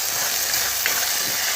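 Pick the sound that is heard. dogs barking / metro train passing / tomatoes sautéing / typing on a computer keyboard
tomatoes sautéing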